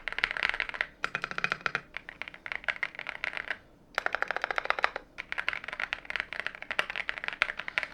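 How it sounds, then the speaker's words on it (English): Close-up clacking of plastic keys typed on a YUNZII X98 mechanical keyboard in quick bursts, with a couple of short pauses between runs of keystrokes. "if we go close with the camera to the keyboard and we try to type something"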